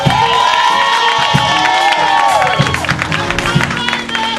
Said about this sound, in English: But give a applause for Deanna DeVoe.